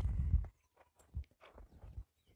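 A mare's hooves moving away over the ground: a heavy thumping burst at the start, then a few separate, fairly soft clip-clop steps spaced out and fading, with no talking.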